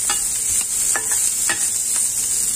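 Ginger and onion sizzle steadily in cooking oil while being stirred, a loud close hiss broken by several short scraping strokes of the utensil against the pan, with no voices.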